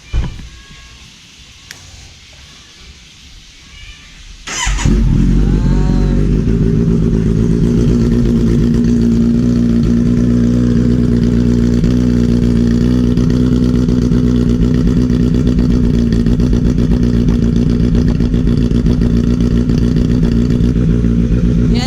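A Kawasaki Z900 SE motorcycle fitted with a burnout exhaust pipe cold-starts after a few seconds of faint background noise, then settles into a loud, close, steady idle with a deep rumble.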